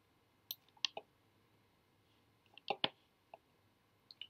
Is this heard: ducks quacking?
no